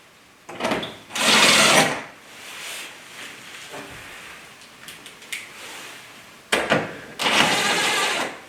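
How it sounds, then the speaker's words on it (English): Screws being driven back into a garage door roller bracket during a door repair, heard as two loud, rasping bursts of power-driver whir, each around a second long, with quieter shop noise in between. "And then simply reinstall the screws."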